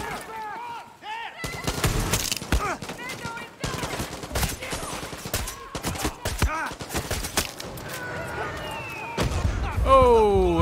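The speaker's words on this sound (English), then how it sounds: "Oh, okay, they got mortars." Gunfire and explosions in the video game Far Cry 6, with dense bursts of shots and heavy blasts, mortar fire among them, loud and continuous over about ten seconds, with game voices and effects mixed in.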